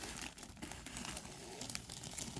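Someone opens the clear plastic bag sealed around a preloved Chanel handbag, making steady close crinkling and rustling with a few sharper tearing crackles, and no voices are heard.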